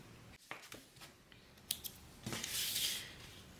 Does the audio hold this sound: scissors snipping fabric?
yes